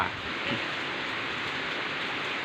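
Heavy rain pours steadily during a rice harvest in a storm, a dense, continuous loud hiss with no break.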